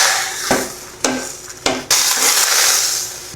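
Igado, a pork and liver stew, being stirred in a pan, with a few sharp scrapes and knocks of a utensil against the pan over a steady background hiss, near and fairly loud.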